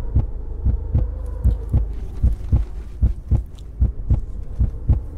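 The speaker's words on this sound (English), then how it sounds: "I'm actually going to turn this heartbeat sound down" The heartbeat effect from the video game Cataclysm DDA gives steady paired thumps, a deep lub-dub repeating about twice per second, loud and close over a faint hum.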